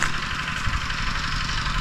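An engine driving a water pump runs steadily nearby, with a constant mid-pitched mechanical drone, a faint knocking pulse and an even loudness over the short span, with no talking.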